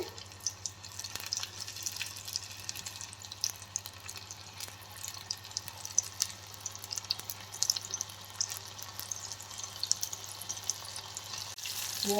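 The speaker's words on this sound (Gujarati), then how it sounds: "આપણે આ રીંગું એમાં તળવા મૂકશું" Tomato ring bhajiya frying in hot oil over lowered heat, a constant fine crackling sizzle with a low steady hum beneath, close and even throughout, with no speech.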